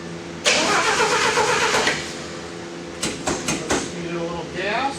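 A small gasoline engine cranks and catches, running with a steady mid-pitched roar for a moment. Then it falters into uneven sputters and revs, heard up close.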